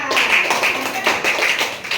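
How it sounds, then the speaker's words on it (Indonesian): Students clap for their group in a junior high school classroom, giving a brief, fairly loud round of hand claps with a steady, slightly irregular patter from start to end. "Tepuk tangan untuk kelompok mereka."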